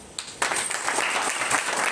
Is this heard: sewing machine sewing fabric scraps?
no